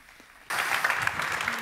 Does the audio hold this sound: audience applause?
yes